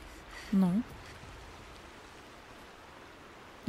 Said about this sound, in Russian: И опять дождь.